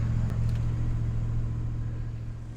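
A Chevy Silverado truck engine idles steadily with a constant low rumble and hum. It sits close and holds a fairly even level throughout, with no voices.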